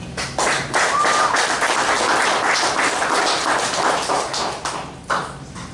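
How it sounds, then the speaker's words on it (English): A conference crowd at a security event claps for the sponsors, loud and close, with a thick patter of many hands that swells quickly, holds steady, then thins out toward the end. "round of applause for them"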